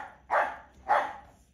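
An Alabai dog barks twice, two loud, close, separate barks about half a second apart over a quiet background, with no talking.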